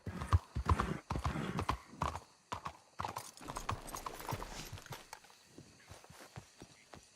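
A horse in Red Dead Redemption 2 walks with steady clip-clopping hooves, close and fairly quiet, in an uneven rhythm that gradually fades, with a brief whinny-like snort early on.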